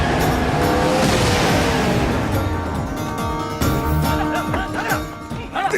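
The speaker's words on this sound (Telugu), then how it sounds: "రాజుగారి కారు వస్తుంది వెళ్ళండి" A car drives up on a road with a loud, continuous engine roar and tire noise, getting closer and passing close by over several seconds, with no voices.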